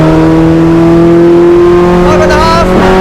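Honda Integra Type R DC2 with a swapped H22 engine pulling hard in fourth gear, a loud steady engine drone rising in pitch near the end, heard from inside the car with a voice talking over it.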